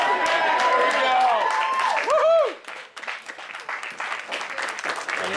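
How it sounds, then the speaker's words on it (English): Wedding guests applaud after a best man's toast, steady crowd clapping under a voice at the start that fades into lighter scattered claps. "You guys having a nice round of applause."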